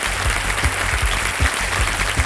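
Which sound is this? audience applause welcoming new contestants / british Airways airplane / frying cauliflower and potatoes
audience applause welcoming new contestants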